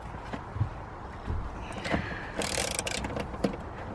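A ratchet cracks loose the 12 mm rear seat bolts on a Honda EP3 Civic Type R, giving short metallic clicking bursts and a brief ratcheting rattle near the mic, with faint handling noises between turns.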